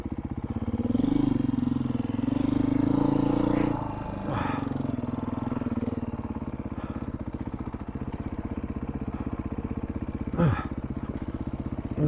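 A Beta RR-S dirt bike putters slowly along wooded singletrack, its engine holding a steady low throb with occasional revs and brief rises, close and continuous throughout.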